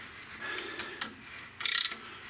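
A hand tap cutting threads into cast iron for a Dana 44 high steer install, heard as a faint, quiet scraping and rubbing with one brief louder rasp near the end, with no talk.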